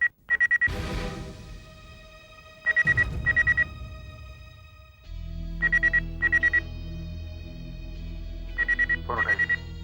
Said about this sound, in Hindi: फोन उठाइए।